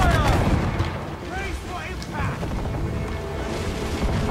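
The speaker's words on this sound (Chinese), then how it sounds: "大炮嘉年华！" Cannons boom in a naval battle in Assassin's Creed 4, a dense barrage of rumbling blasts and crashes with whistling streaks, while a voice shouts excitedly over it.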